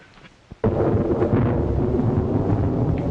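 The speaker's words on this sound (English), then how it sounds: "Worst storm I ever saw in Jerusalem." A sudden loud crack opens into a heavy, continuous rumble of thunder and pouring storm noise in Jerusalem, sustained and dense after a brief quiet start.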